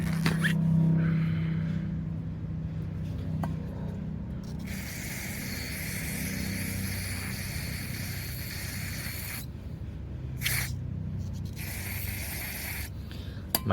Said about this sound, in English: Might need another can of carb cleaner soon here too.